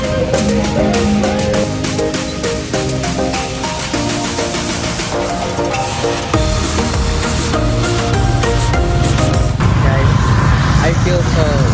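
Riding a tricycle through Da Nang traffic, with constant loud engine and road noise, dense rattling and clicking, and a rougher surge of rumble toward the end.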